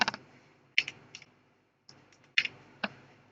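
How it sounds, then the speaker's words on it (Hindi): Sparse, crisp clicks from a computer mouse and keys, heard on a form's verify button, come as a few isolated taps and short pairs with quiet gaps and no voices. "और वेरीफाई के ऊपर क्लिक करता हूँ।"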